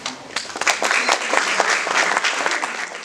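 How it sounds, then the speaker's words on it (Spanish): An audience claps for a speaker being introduced at a Spanish-language talk on dystopian literature for young readers, a loud, dense, steady round of applause lasting several seconds with no voices over it. "Para él, un aplauso, por favor."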